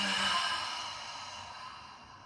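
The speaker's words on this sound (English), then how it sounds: "Taking one more inhale. Cleansing exhale." A deep cleansing exhale during a yoga flow, one long breathy sigh that starts strongest and slowly fades over a couple of seconds, close and alone.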